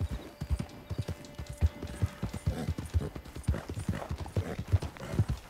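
Quick, even hoofbeats of a horse in the video game Red Dead Online clip-clop at a trotting pace, fairly close and crisp, continuing without a break.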